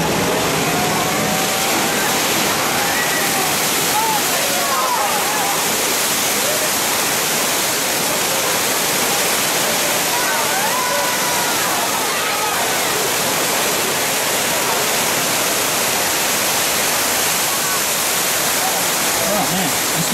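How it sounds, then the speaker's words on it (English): Water gushing from a burst water main on a studio tram tour, a steady loud broadband rush that fills the whole stretch with constant spray, with faint voices underneath. "Water main's busted."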